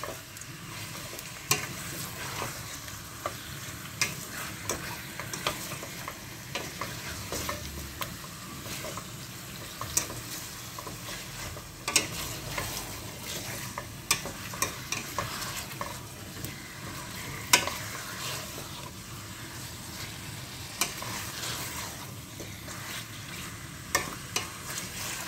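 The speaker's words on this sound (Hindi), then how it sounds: "अब इसको अच्छी तरह भूनेंगे।" Chicken frying in a pot for almond pulao, continuous sizzling with repeated sharp spoon scrapes and stirs at an uneven rhythm, close and fairly loud.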